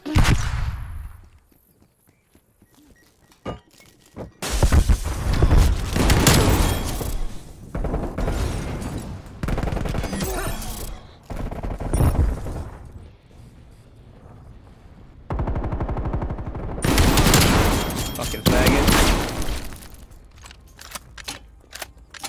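Gunshots and loud impacts during a Search and Destroy match on a season 3 map in an online shooter, coming in several heavy bursts separated by quieter stretches, close and punchy.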